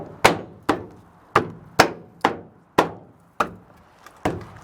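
A GMC Sierra truck taillight being knocked into place with a run of about ten sharp, evenly spaced hits, each a loud close thump that dies away quickly, with no talk.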